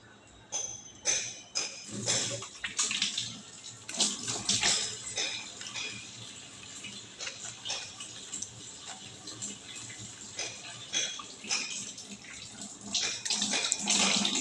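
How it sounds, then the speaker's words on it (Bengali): A face being washed with face wash under running water, with repeated close splashes and the tap's steady flow and no talk. "আর ফেস ওয়াশ দিয়ে এখন মুখটাকে ভালো মতো ক্লিন করে নেব।"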